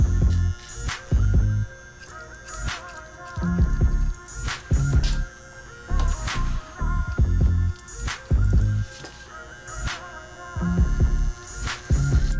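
Hair clippers fitted with a fade blade buzz close by in repeated bursts as they are run through hair while cutting a mohawk, with a low steady hum between passes.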